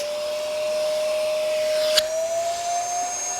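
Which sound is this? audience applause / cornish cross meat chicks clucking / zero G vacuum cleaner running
zero G vacuum cleaner running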